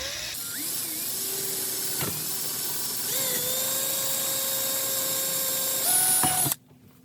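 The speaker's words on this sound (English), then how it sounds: "So let's go ahead and drill this first hole" A power drill whines steadily while drilling a hole in a 1971 Holiday Rambler camper, its pitch shifting as it bites into material, then cuts off abruptly near the end.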